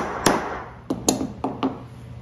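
A sharp point is tapped into a workpiece to make a starting mark for a drill bit, giving five short, crisp metallic taps spaced irregularly, close, with no talking.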